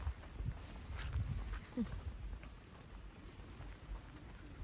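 Rain falls outdoors in the countryside as a steady, faint hiss of drops that holds evenly across the whole stretch, with no voices.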